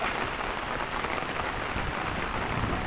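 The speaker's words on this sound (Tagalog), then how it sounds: "biglang bumuhos po, napakalakas na ulan" Heavy rain pours down steadily in a loud, dense wash with no break, the downpour hitting surfaces all around in Baguio's Burnham Park area.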